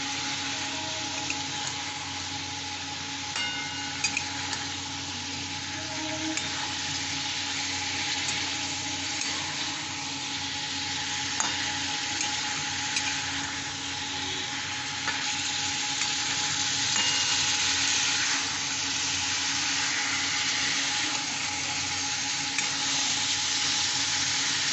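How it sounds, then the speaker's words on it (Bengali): Boiled jackfruit pieces and their seeds frying in a pan for a Bengali dry curry, giving a steady, broad sizzle that runs unbroken throughout, with occasional faint scrapes of stirring and no voices. "এবার আমি এঁচোড়টা দিয়ে কষবো।"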